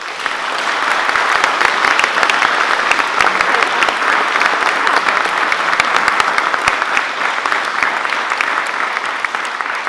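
Loud, sustained applause from a large audience at a school graduation ceremony, clapping steadily and evenly throughout with no break.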